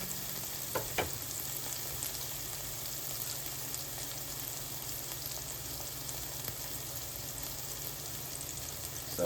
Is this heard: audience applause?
no